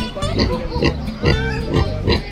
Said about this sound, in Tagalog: Ang breed ng baboy kaya yan.